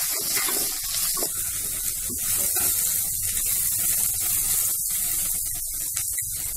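Onions sizzle in hot oil with mustard seeds, a steady close hiss that holds at an even loudness with occasional crackles and no talking.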